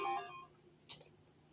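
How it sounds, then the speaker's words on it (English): A mobile phone gives a short, faint notification chime in a quiet room, followed by a couple of soft, brief blips. "That's my phone keep dithering at me."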